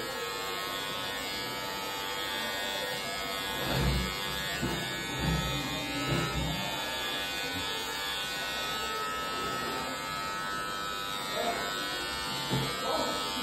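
Electric clippers shaving a head buzz continuously and up close, with faint thumps as the clippers move.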